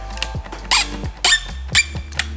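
A small T20 screw on a BMW F30 steering wheel paddle squeaks as it is turned out, several short sharp squeaks in a row, close and alone with no talk.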